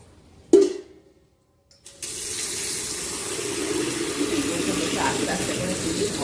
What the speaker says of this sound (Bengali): জলটা খানিকটা ফেলে দিই